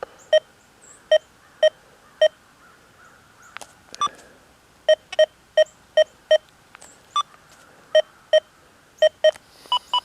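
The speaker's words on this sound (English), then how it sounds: "You can hear that signal there if I turn this iron volume up." A Deus 2 metal detector, set to beach-sensitive pitch tones with the iron volume turned up, sounds a string of short, sharp beeps at an uneven pace over a faint background hum.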